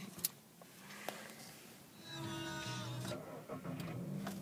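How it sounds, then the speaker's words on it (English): A Volkswagen Golf S TSI hatchback petrol engine turns over after a couple of faint clicks, then settles into a steady low running hum that continues to the end. "no problem starting the car at all"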